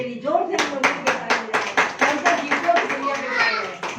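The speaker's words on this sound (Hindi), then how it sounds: "जोर से हम ताली बजाएं उसके लिए, जोर से हम ताली बजाएं" A congregation at a church gathering claps in a loud, regular rhythm, with steady beats close together and voices mixed in beneath the clapping.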